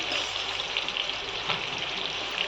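Chicken pickle bubbles and sizzles in a pan, a dense, steady hiss of frying and boiling that carries on evenly throughout, close and moderately loud, with no talking.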